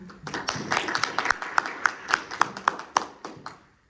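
A small audience claps for a lecturer at a talk on multiscale composite materials, a thin scattering of individual hand claps that builds briefly and then fades out to silence.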